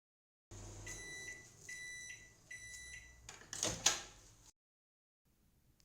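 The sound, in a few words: microwave oven heating date paste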